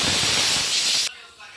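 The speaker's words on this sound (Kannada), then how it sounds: "ಇವಾಗ ನೋಡ್ತಿರ್ಬೋದು ವಿಸಿಲ್ ಬಂದು" A pressure cooker whistle lets off a loud, continuous hiss of steam up close for about a second, then cuts off abruptly, leaving quiet kitchen background.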